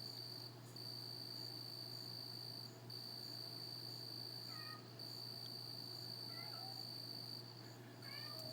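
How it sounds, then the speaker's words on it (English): A black-and-white tuxedo cat meows to be let in, giving a few faint, brief cries spaced several seconds apart beneath a loud, steady cricket chorus. No one speaks. "That cat wants in so bad."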